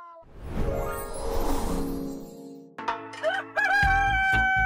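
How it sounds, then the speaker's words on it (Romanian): A rooster crows a drawn-out cock-a-doodle-doo, followed by a few shorter, sharper crowing calls, fairly faint and alone with no talk. "Urăsc cocoșul ăla!"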